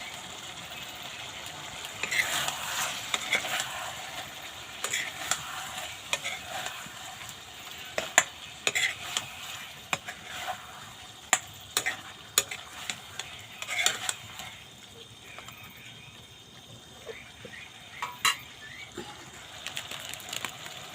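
Ginger and garlic stir-fry in a pan with a soft, continuous sizzle, broken by quiet, irregular scrapes and stirring clatters that come close together in some stretches.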